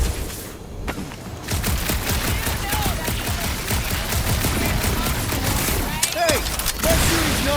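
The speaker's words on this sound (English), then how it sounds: "that shooting's not aimless" Dense shooting fills a scene in Marvel's Guardians of the Galaxy on PS5 as rapid gunfire crackles almost without pause alongside whooshing effects, and voices talk over it.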